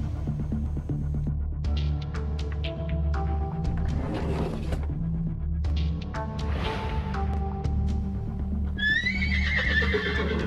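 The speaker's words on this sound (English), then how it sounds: "Owner Lynn Denty is out by 7 a.m. tending to the horses" Horses whinny at Double V Stables in Del Mar, with a rising neigh near the end over a steady low hum and scattered stable clatter, fairly close and clear.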